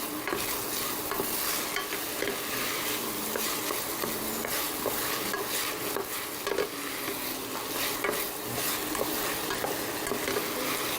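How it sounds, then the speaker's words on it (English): Tomatoes stirred in a cooking pot over heat, with continuous scraping and clattering from the spoon over a steady sizzle, close and fairly loud. "I'll give this a stir"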